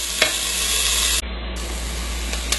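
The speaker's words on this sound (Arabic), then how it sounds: "سخنت الزيت وضفت البصل، أخليه ياخذ له لون حلو" Onions frying in hot oil for a chicken maqluba, a steady close sizzle with crackling and a brief stirring clatter, continuous without speech.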